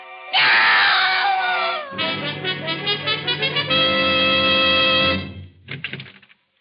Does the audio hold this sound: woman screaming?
yes